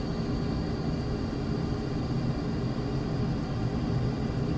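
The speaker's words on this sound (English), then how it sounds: "Afterburner." An F-15 fighter jet in a flight simulator roars on afterburner during takeoff, a dense, steady, loud wash of engine noise with a deep rumble and no pauses.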